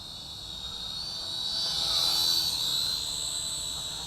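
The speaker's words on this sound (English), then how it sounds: "I am flying an FPV right now, folks." A Syma X5HW altitude-hold camera drone flies nearby, giving a steady high-pitched buzzing whine that swells a little in the middle and holds constant throughout, with no talking.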